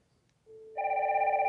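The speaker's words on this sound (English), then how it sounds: "if we have an incoming call and it's ringing" A Wildix WP410 desk phone rings with an incoming call: a soft tone starts, then a loud, steady electronic ringtone sounds close and clear, with no talk.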